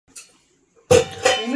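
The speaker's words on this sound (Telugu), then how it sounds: "ఎందుకు దగ్గుతున్నావు అట్లా?" A single sharp cough bursts out loud and close in a home kitchen, trailing into a rough, breathy tail, after a faint earlier cough and near-silence.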